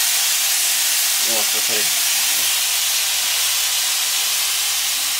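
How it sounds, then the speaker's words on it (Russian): Mushrooms fry in a hot pan with a loud, steady hiss and sizzle that runs throughout, while someone speaks briefly near the start. "Они вот поджариваются симпатично."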